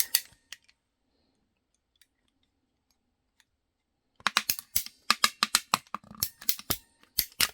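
Scissors snipping a piece off a plastic cover for a new RV recliner, a quick irregular series of crisp close cuts after several seconds of near silence with a few isolated clicks.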